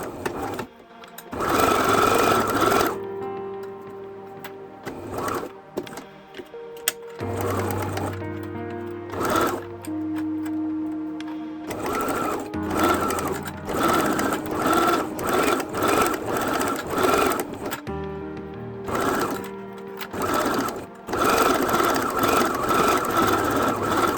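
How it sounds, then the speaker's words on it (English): A sewing machine stitches close to the edge around a quilted wallet, running in several loud, rapid bursts separated by short pauses, with faint handling noise between runs. "we are going to sew close to the edge around"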